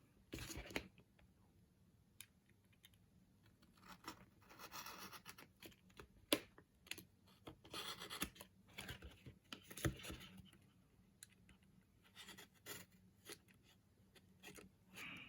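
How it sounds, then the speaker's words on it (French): A small craft cutter knife slicing through silver flex vinyl material, producing irregular close scratchy scrapes and soft rustling handling noises in quick bursts, no talking. "voilà à quoi ça peut servir ce petit cutter"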